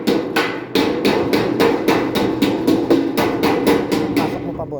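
Steady, loud hammer blows strike in a quick, regular rhythm, close by, with a brief pause before the pounding resumes.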